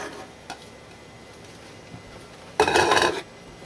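Two cups of celery cooking in a pot for chili, a quiet soft simmer broken by a few light clicks and then a short loud burst of sizzling or stirring clatter near the end.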